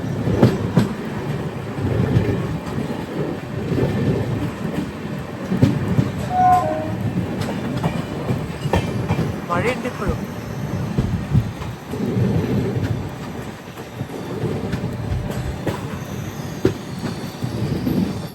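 Sindhudurg Express rumbling along the Konkan Railway in monsoon rain, a steady loud low roar of wheels and carriages with clattering rail joints and a brief squeal, heard from inside a general class coach, with a short spoken remark.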